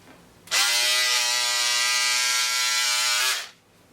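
Close, loud electric cutter whirring steadily for about three seconds while cutting out the neckline of a kaftan dress from fabric, starting abruptly and stopping cleanly.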